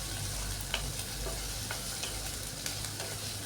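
Chopped ginger and onion sizzle steadily in a hot pan, a dense continuous frying hiss with occasional soft stirring scrapes, close and alone.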